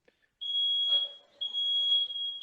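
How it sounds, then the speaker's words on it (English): A household fire alarm going off with a loud, steady high-pitched electronic tone in two long bursts separated by a short gap, alone in a quiet room. "That's our fire alarm going off."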